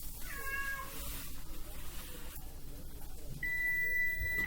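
A cat meows in a home kitchen, a couple of short, clear meows near the start, followed by a steady electronic timer beep toward the end, with no talking.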